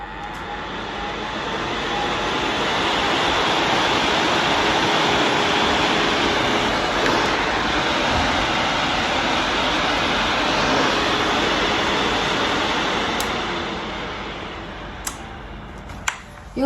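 A nail drill machine and dust vacuum switch on and run, a steady loud whirring roar that swells and holds, then fades near the end with a few small clicks.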